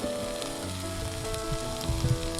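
Onion egg roast sizzles in a pan while coriander leaves are stirred in, a close steady frying hiss with light scraping toward the end, no voices.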